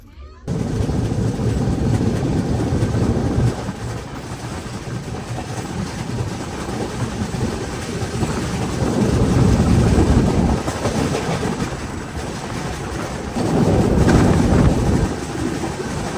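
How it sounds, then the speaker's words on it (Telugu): Ajmer to Durg Weekly Express running at cruising speed, heard from inside the coach: a loud, steady rumble of wheels and carriage with rhythmic clatter, swelling in waves throughout. "మన ట్రైన్ ప్రెసెంట్ క్రూజింగ్ స్పీడ్ అయితే ఇది."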